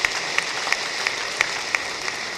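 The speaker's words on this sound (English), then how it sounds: "Please give him a special round of applause." Applause from the audience at the opening ceremony of the 48th Annual Accountants' Conference, honouring Ambassador Gambari. A steady wash of clapping has sharp individual claps standing out at a regular pace.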